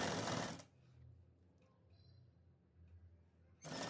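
A sewing machine runs stitching piping onto a blouse, a loud whirring burst at the start, near silence in the middle while the fabric is turned, then the motor starts up again at the end.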